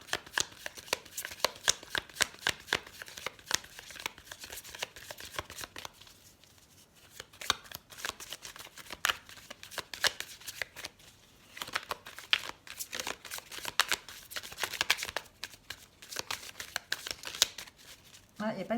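A deck of elf oracle cards being shuffled in quick, close bursts of papery riffling with a short pause midway, while a voice talks over it.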